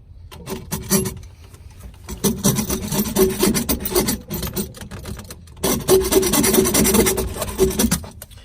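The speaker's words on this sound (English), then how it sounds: "I got this little hacksaw for like 10 bucks at Home Depot. So I'm just going to cut these off each one at a time." A small hacksaw cutting off sewer hose fittings, heard close up as rhythmic back-and-forth rasping strokes in two bursts with a short pause between them.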